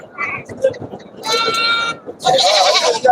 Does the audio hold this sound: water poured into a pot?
no